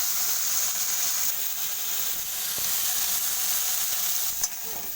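Okra (vendi) sizzling steadily as it fries in a pan, a constant bright hiss with occasional soft stirring clicks near the end.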